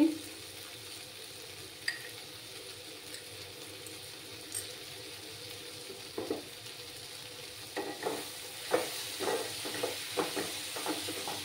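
Bengali masala spice paste frying slowly in a pan for a katla fish curry with beans, potato and tomato, a steady low sizzle broken by occasional stirring scrapes and soft clinks, fairly faint and close.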